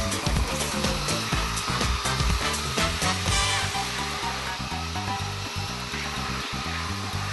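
A belt sander runs continuously along the edges of painted wooden boards, a loud, steady whirring grind with shifting rasping texture as the belt works the wood, close up and without speech.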